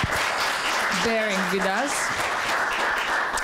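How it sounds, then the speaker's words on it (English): An audience applauds the final panel trio at the close of a film festival panel, a steady dense wash of clapping running throughout while someone speaks briefly over it. "So just give them applause for"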